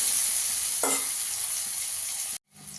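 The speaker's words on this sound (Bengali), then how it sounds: "পেঁয়াজটাকে একটু লাল করে ভেজে নেব।" Chopped onions sizzle and fry steadily in hot oil in a pan, a continuous close hiss with a brief stirring scrape, then cutting off abruptly near the end before faintly resuming.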